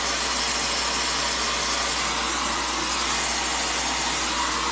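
A home blow dryer runs on medium airflow at a hot setting during a haircut for long wavy hair, a loud, steady, close whoosh that holds without a break.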